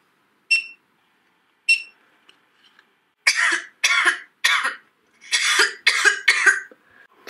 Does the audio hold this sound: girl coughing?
yes